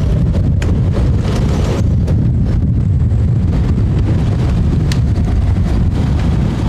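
Strong wind gusting to around 40 knots buffets a boat at anchor in Greece, steady with a constant low roar and occasional sharper gusts, loud and close.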